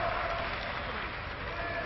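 A wrestling crowd applauds ringside at an international pro wrestling bout, giving a dense, steady wash of clapping that holds at an even level throughout.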